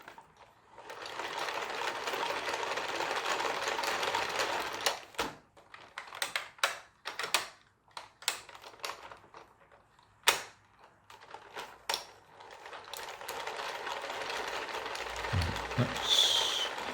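A Quercetti Isotta toy car's gear mechanism being cranked by hand, a dense whirring ratchet that runs steadily, breaks into short bursts of clicks and rattles, then resumes in a long continuous whir, close and fairly quiet.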